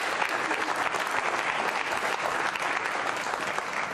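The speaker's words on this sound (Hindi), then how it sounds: "आभार के लिए तालियां जोरों से बजाइए उनके लिए आप।" An audience at a Ramadan quiz show claps loudly and continuously, a dense, even burst of applause filling the room with no speech over it.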